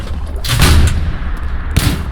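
Two loud, close tank cannon blasts in a tank battle video game, fired at a T-34, each a sharp boom with a rumbling tail, about a second apart.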